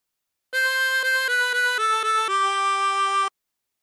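A 24-hole tremolo harmonica plays a short La Cucaracha phrase, a handful of wavering reedy notes stepping downward in quick succession, close and clear, then stopping into silence.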